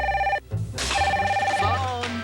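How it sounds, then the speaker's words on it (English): A telephone rings twice in a TV commercial: two bright, close electronic ring bursts split by a short gap, with a low musical and voice bed underneath. "Phone."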